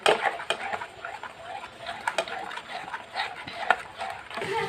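Spices with tomato sauce and Kashmiri chili powder are stirred in a pan for a prawn curry. A spoon scrapes and clinks against the metal in quick, uneven strokes, fairly quiet and close, over faint background noise.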